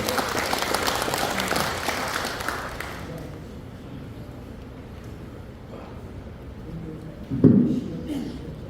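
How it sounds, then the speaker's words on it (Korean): Crowd applause at an 80th birthday celebration in a hall rises at first and fades out after a few seconds, leaving quiet room noise with a brief bump near the end. "박수로 맞이해 주시면 감사하겠습니다"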